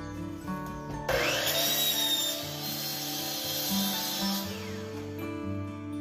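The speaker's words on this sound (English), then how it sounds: "We're going to do this at the miter saw." A miter saw cuts scrap half-inch plywood for a porch sign: a motor hum spins up, then a loud, sustained cutting roar lasts a few seconds before the blade winds down into quieter rumbling.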